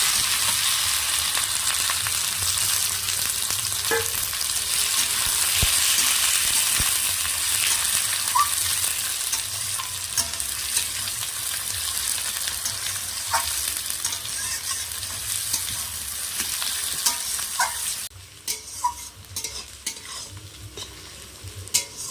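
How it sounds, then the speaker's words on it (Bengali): Whole cumin and chopped onions frying in oil in a pan over a wood-fired stove, a steady bright sizzle with occasional utensil taps and stirring scrapes, running alone for about twenty seconds before the sizzle thins near the end. "এবার এই একই তেলে দিয়ে দেবো গোটা জিরে, পেঁয়াজ দেবো"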